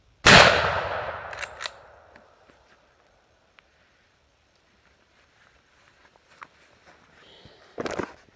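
A single loud, close gunshot from a 50-110 WCF lever action rifle firing a 300 grain bullet, with a sharp blast that rings out and decays over a few seconds. A fainter impact or rattle follows near the end.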